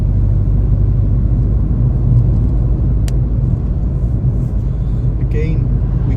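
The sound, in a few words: car driving and accelerating on road test route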